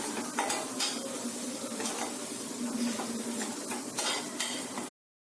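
Garam masala sautéed in oil in a pan for a curd brinjal gravy, a close crackling sizzle with frequent spoon clinks and scrapes against the pan, then sudden silence near the end.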